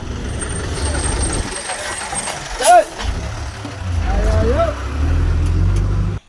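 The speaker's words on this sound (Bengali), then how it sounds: "শেষমেশ আবার এই যে বাসটা চলেই আসলো" A bus arriving on a road, its engine rumbling close by, with a sharp brief air-brake hiss partway through and a voice speaking over the noise.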